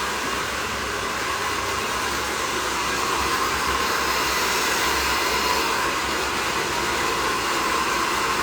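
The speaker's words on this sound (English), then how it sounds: "I'm just rough drying it right now." A hair dryer rough-dries a layered bob haircut, blowing as a loud, steady, close-up rush of air that continues unchanged throughout, with no talking.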